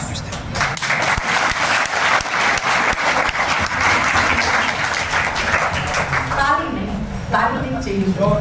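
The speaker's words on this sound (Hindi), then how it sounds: "ताली नहीं चाहिए मुझे।" Students clapping at a coaching centre in Jhajjar, a loud sustained round of applause that fades near the end as a voice comes through.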